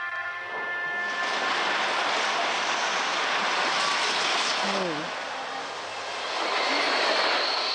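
A flying train in the video game Genshin Impact rumbles and whooshes as a steady, loud mechanical roar, rising and falling slightly across its length, with a brief voice exclamation and a few whistling tones.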